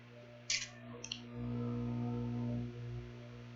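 A computer mouse clicks twice in quick succession while working in Packet Tracer, light crisp taps over a steady electrical hum, with soft background noise after.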